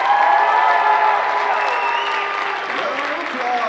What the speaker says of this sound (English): And the trophy, round of applause for this man.